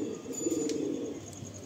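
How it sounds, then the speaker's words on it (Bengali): Male pigeon cooing softly in a loft, a low murmuring rolling coo lasting over a second, close and fairly quiet against faint background hiss. "খুব সুন্দর একটা নর পায়রা দেখলাম"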